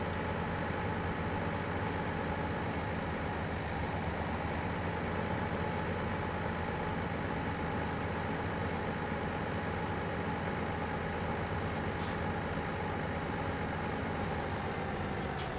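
Tractor engine in Farming Simulator 17 droning at a steady, even pitch for the whole stretch, with a brief hiss of air brake released near the end and no talk.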